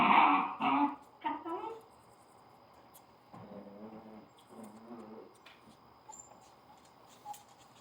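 Scottish terrier puppies play together, giving a few sharp, close yips and small growls at the start, then quieter scattered grunts, snuffles and whimpers in a calm room.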